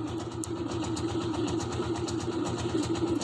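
Serviced motorcycle engine with its original piston and a freshly serviced carburetor, idling steadily right after starting on the first kick, giving a close, continuous rhythmic putter with even pulses throughout.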